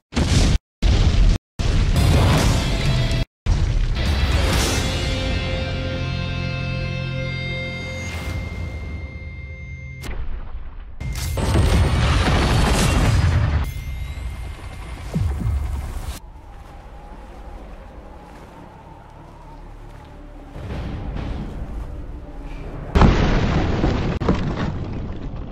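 Explosions tear through the city of Geneva in the shooter game Call of Duty: Infinite Warfare, with loud booming blasts and rumbling debris layered over a dense, continuous game score.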